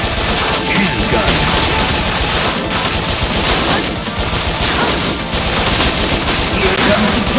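Rapid machine gun fire in the game Bot Vice, a loud, dense stream of overlapping shots repeating without pause alongside other crashing effects.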